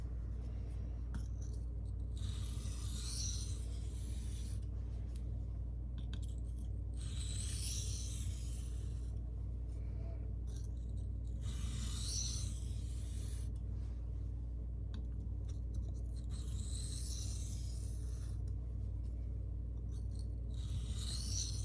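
A CPM 1V steel knife is sharpened freehand on a stone, with repeated rhythmic rasping strokes in bursts separated by short pauses, close and fairly soft over a low steady hum.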